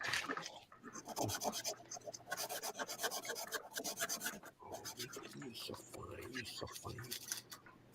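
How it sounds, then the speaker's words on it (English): Sandpaper rasps hard against a surface in quick, continuous back-and-forth strokes, close and steady, with brief pauses. "I wish I had better sandpaper."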